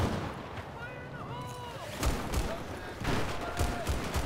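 A C4 charge detonates in the Battlefield 4 video game, with heavy booming blasts around the midpoint and again a second later over a noisy battlefield backdrop, while a player talks.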